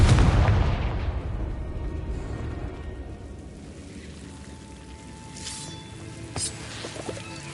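A loud Confringo blast spell explosion from Hogwarts Legacy on PS4 Pro bursts at the start with a deep boom, then rumbles away into a long fading tail with faint game sounds.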